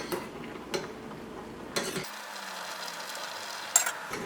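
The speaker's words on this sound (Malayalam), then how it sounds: "ഇതൊന്ന് ഇളക്കിയിട്ട് കൊടുക്കുക." Raw plantain boiling in a pot for Kerala kaya thoran is stirred with a utensil, giving a few soft scraping knocks and clinks against the pot over a low background hiss, with no talking.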